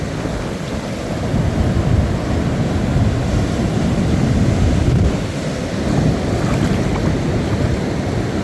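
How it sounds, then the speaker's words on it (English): Steady gusting wind buffets the microphone outdoors on a beach, a low broadband roar with faint surf-like washing beneath, continuous throughout with a brief lull near the middle. "it's real windy down there."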